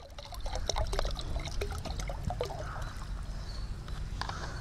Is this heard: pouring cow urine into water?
yes